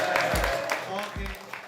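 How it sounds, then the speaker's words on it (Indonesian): An audience at an Indonesian ambassador appointment ceremony claps under a speaker's voice, steady applause mixed with talk. "kita kasih tepuk tangan untuk Duta SOINA selama 1 tahun ke depan, Syarif Malika dari Ambon."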